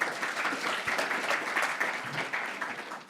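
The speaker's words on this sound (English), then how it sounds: "Let's give Amit a round of applause," Audience applause in a conference hall at a Jupyter notebooks talk, a steady wash of clapping lasting about three seconds before thinning out.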